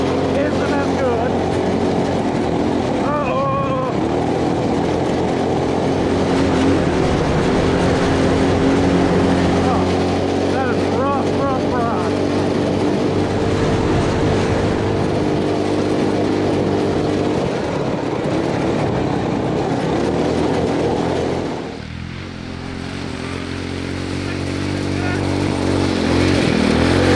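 Go-kart powered by a Honda clone engine revving near 6,000 RPM, a steady loud droning whine that holds for most of the run, dips briefly, then climbs again.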